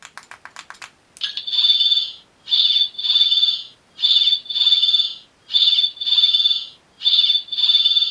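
A Doctor Who Fourteenth Doctor toy sonic screwdriver warbles an alarm in repeated high-pitched bursts after a quick series of clicks, pulsing on and off in a steady intermittent pattern.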